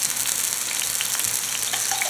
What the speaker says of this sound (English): get a nice sear on it